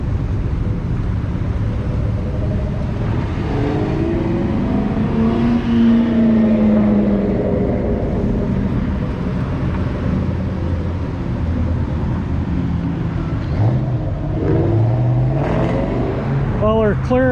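A 1959 Chevy Bel Air cruising on a road, a steady low engine drone with road rumble throughout, and a few rising tones near the end.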